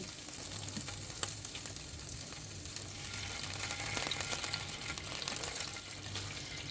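Garlic and vinegar sizzle in a pan over medium heat, a soft continuous frying hiss with faint crackles and a small clink, fairly quiet and without talk.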